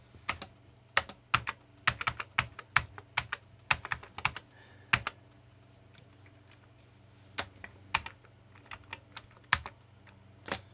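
Keys on a filthy Amiga 500 keyboard are pressed in quick, irregular runs of sharp close clicks with short pauses between bursts, alone over a low electrical hum.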